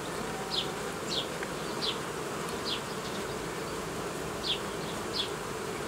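Honey bees buzz around an opened hive in an improvised nucleus colony, a continuous close drone with several individual bees zipping past the mic in brief whines.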